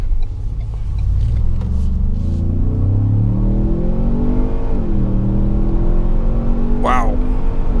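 A 2017 Ford Explorer Sport's 365-horsepower twin-turbo V6 accelerates hard in sport mode, a loud, steady engine rumble with rising harmonics, heard from inside the cabin with a brief voice near the end.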